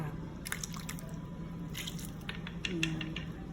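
Water poured into a pot of chicken cooking on the stove, a few soft splashes and drips, quiet and close with no talk.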